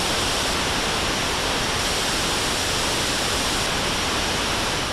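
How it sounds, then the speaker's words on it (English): White noise played back steadily for a review of Apple AirPods Pro 2 earbuds: a constant, loud, even hiss with no pauses or variation, heard alone. "here's a little white noise sample to hear how it changes."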